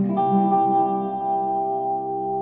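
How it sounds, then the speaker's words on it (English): A sustained guitar chord rings out through plate and modulated reverb pedals, smeared by a heavy, shimmering reverb wash that lingers and slowly fades without decaying much. "Let's just throw the modulated reverb on as well."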